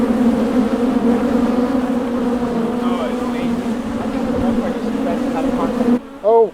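Honeybees buzz in a dense, continuous drone around an open hive on a bee farm, loud and close, with a person's voice briefly audible at the end.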